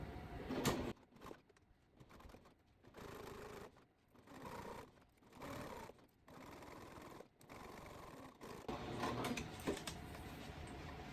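A sewing machine stitches a straight seam across a tote bag, running in bursts of steady mechanical whirring separated by short pauses, close and alone with no talk.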